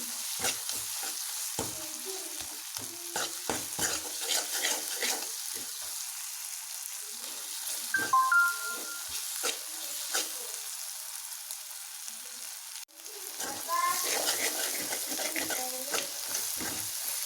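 Chicken biryani masala with garam masala is fried and stirred in a pan, a steady hiss of frying broken by repeated scraping strokes of the spoon, close by, with no speech.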